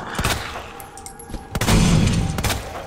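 Zombies burst apart in the video game Resident Evil 2 Remake, heard as sharp bangs and a heavy explosive boom that rumbles on for about a second amid dense game noise.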